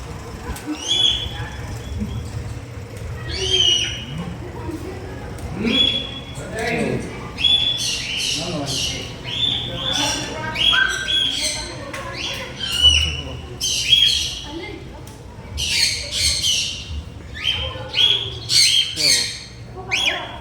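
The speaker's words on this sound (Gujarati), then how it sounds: "આ બજરીગર છે." Harsh, repeated squawks and chirps from a group of budgerigars, overlapping and busy throughout, with a low hum in the background.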